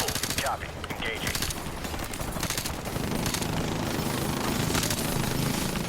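Helicopter machine-gun fire in the video game Call of Duty 4 Remastered, rapid bursts of gunfire over a dense battle din and rotor roar, the firing growing heavier and more continuous in the second half.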